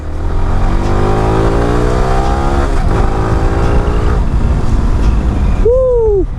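A Yamaha R15 V4 motorcycle fitted with an aftermarket exhaust, loud and close, with its engine note rising through several revs and gear changes before a short sharp high whine near the end.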